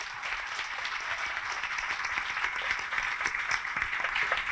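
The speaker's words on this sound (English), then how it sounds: "Let's have a big round of applause" Moderately distant applause fills a hall at a session on new labour codes, a continuous patter of many hands clapping at an even level without letup.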